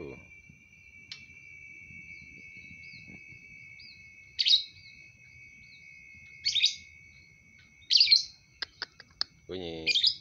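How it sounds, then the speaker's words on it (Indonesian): A local puter dove calls in repeated bursts, with sharp chirps and tweets set against a steady high background tone, and a voice murmurs faintly underneath. "suara burung puter lokal yang suaranya"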